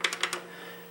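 Computer keyboard keys tap in a quick run of four crisp, close clicks, then go quiet over a low steady hum.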